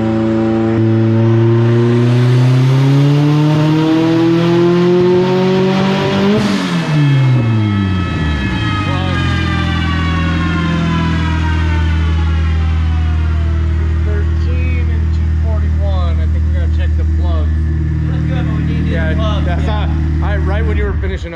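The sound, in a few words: car engine misfiring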